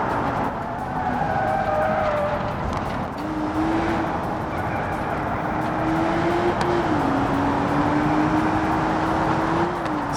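Roughly 600-horsepower car in the BeamNG racing game, engine whining in a long steady acceleration with rising tone, gear shifts and some tire noise, loud and continuous with no talk.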